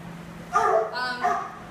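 A dog being returned to a kennel after a health check gives a few short, close yips and whiny barks in quick succession, high-pitched and brief.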